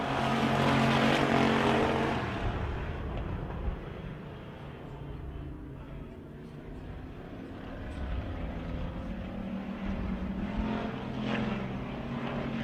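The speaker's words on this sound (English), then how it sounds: "We're racing right now." Race cars roar at Victory Lane Speedway during the AFCO Race of Champions, loud engines passing close at first, then a steady, more distant drone of the pack circling.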